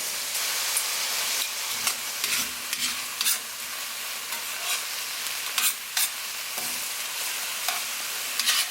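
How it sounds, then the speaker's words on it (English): Vegetables for a nopales curry saute in a pan with a continuous sizzle, broken by several sharp stirring scrapes and clatters against the pan. "Let this saute for a while"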